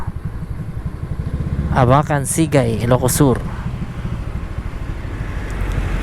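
A jeep with a big engine drives a mountain road through Barangay Abacan in Sigay, Ilocos Sur, its steady low engine drone and wind buffeting running beneath someone talking.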